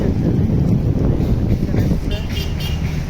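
Steady wind buffeting the microphone outdoors on a cloudy day, a constant low roar lasting the whole clip, with voices talking faintly underneath.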